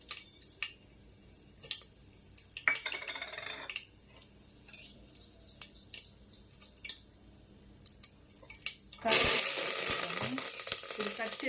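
Mustard seeds hit hot cooking oil for a curry, starting with faint scattered drips and crackles, then breaking into a loud, dense sizzle and spatter that fills the last few seconds.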